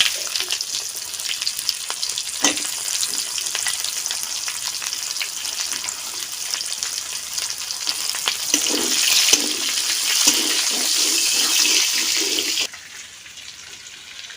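Chopped onion and cumin frying in hot oil, a steady close sizzle with crackling and spattering that swells midway, then drops to a quieter hiss near the end.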